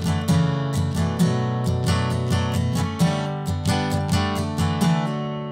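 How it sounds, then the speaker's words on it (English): Guitar strums the chorus pattern of a song, a quick rhythmic run of down and up strokes with repeating accents, close and clear with no voices. "the strum pattern I would do would sound something like this"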